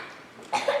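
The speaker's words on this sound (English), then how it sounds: "Keep coughing." A single short cough from a stage actor during a theatre production of Anne of Green Gables, fairly close and clear, rising abruptly after a quiet moment.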